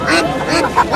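Chinese ducks quack at a village livestock market in a short burst of nasal, repeated calls, with crowd murmur and voices in the background.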